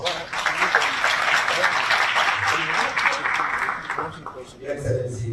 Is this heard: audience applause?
yes